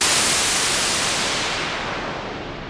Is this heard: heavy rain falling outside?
no